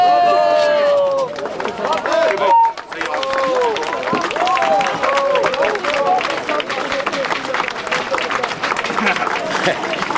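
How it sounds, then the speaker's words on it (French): Spectators at an outdoor team event applaud and cheer in a loud, dense crowd, with shouting voices and whistles rising over steady clapping throughout. "Applaudissements!"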